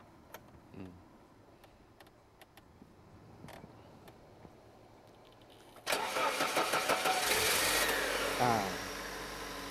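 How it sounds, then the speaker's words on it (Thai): A car engine cranks and catches at once, then settles into a steady loud idle after a few quiet clicks and shuffles. "เครื่องยนต์ก็ติดง่าย"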